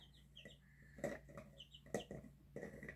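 Several chickens cluck softly in short irregular bursts, with other faint bird chirps between them and no talking.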